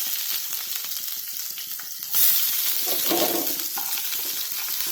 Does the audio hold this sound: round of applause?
no